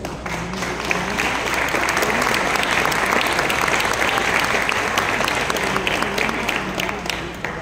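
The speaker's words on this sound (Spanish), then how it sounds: "Recibámoslo con un fuerte aplauso." A crowd bursts into sustained applause at a Mexican chamber of commerce (CANACO) event, dense clapping swelling and holding steady for several seconds before tapering slightly.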